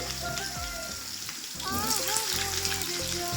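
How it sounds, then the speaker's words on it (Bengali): Mixed vegetables frying in a pan for khichdi give a steady, fairly loud sizzle that swells after a short dip, with some music-like tones over it. "সব সবজিগুলো একটু সুন্দর করে ভেজে নেবো"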